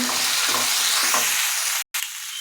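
Spices with salt and turmeric sauté in a pan, a bright sizzle with rhythmic scraping strokes of stirring, then the frying cuts out abruptly for a moment before a quieter hiss resumes.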